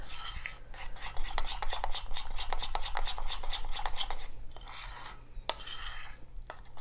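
A utensil beats a cinnamon biscuit mixture in a bowl with quick, rhythmic scraping strokes against the sides, running steadily for several seconds before slowing, close up with a low background hum.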